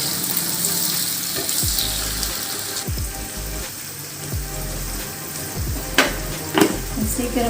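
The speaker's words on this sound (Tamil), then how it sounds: "ஃப்ரைட் ஆனியனாக பண்ண போகிறோம்" Sliced onions fry with a little salt for a Kerala-style chicken roast, giving a steady crackling sizzle with stirring scrapes and clanks of a spoon against the pan, and a brief murmur of voice.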